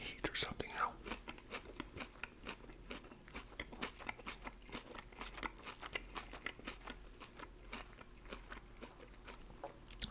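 Crunchy bites and steady chewing of a Thai ginger roll with lettuce, cucumber, avocado and carrot, close and repeated through the whole stretch, with soft whispering in between.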